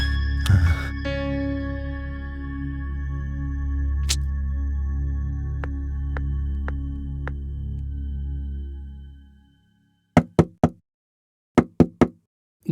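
Four or five sharp knocks strike a door in quick pairs, loud and close, after a sustained tonal musical sting fades out.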